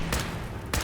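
Two sharp gunshots in Fallout 4, spaced under a second apart, each a loud close crack over a low background.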